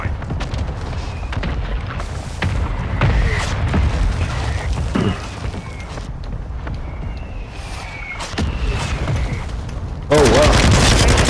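Airstrike explosions and bursts of gunfire in a shooter video game, with dense, loud booms and rattling shots running throughout, a sharp louder blast near the end, and voices talking over the combat.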